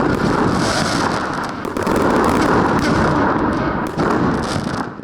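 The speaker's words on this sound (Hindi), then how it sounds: "आतिशबाजी के मुजाहरे ने फिजा में हर तरफ रंग बिखेर दिए।" A fireworks display at Pakistan's National Games bursts across the sky in a dense, continuous barrage of loud booms and crackles, with rapid overlapping explosions and no pause for several seconds.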